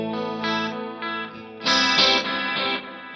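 Electric guitar played through a London Plate reverb preset on a guitar rig, sustained chords and notes ringing into a wide, shimmering plate-style tail, loud and close with a brighter, fuller burst midway and no talking.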